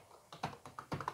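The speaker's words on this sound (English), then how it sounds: "if I were to type in, Joey," A name being typed on a computer keyboard, about eight quick, clicky keystrokes in an uneven rhythm, close and fairly quiet, with no talk.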